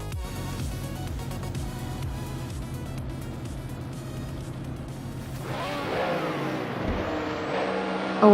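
Race cars idle and then pull away at the start of a retro racing game at the Hockenheimring Retro National Track, with a steady engine drone that shifts into a louder, rising surge near the end.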